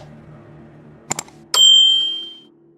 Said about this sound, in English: The bell above the door jingled behind them, cheerful, completely wrong for the moment.